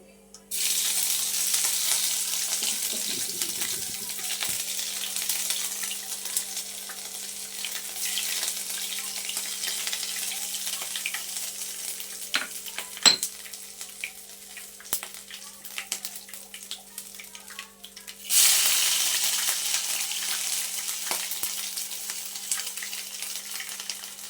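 Ginger garlic paste sizzles and fries in a hot pan for a fish curry with onions, a steady close crackling hiss that holds throughout and swells again sharply near the end.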